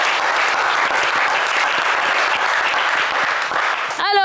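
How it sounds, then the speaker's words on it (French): A television game show's studio audience applauds, dense sustained clapping from a crowd that fills the room, ending with a brief electronic flourish. "Allez, un max d'applaudissements quand même pour Brahima."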